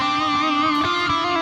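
Electric guitar sustaining a note through a simulated 4x12 cabinet loaded with Greenback speakers and captured by a dynamic microphone, steady and bright with rich overtones, no talking.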